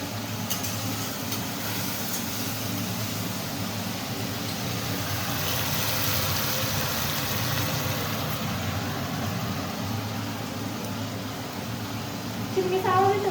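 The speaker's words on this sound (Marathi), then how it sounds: "चिमणीचा आवाज येतो" A kitchen chimney exhaust fan runs steadily throughout as a continuous broadband whoosh with a low hum, while someone talks over it in a home kitchen during a busy morning.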